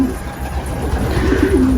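Pigeons on a rooftop coo in low, soft, rolling notes, close by and steady over a constant outdoor rumble, with no voices.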